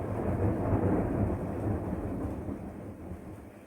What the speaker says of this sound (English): if you heard that thunder crack